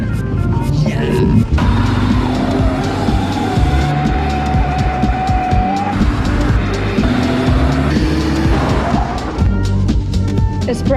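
A Lincoln race car spins a donut, its engine roaring loud and steady while the tires squeal in a long, sustained screech throughout.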